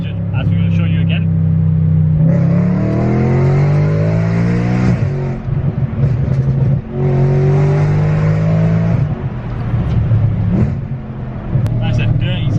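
An Audi RS5 sports car engine revs hard in two long, rising bursts, dropping back to a rough idle between them, loud and close throughout.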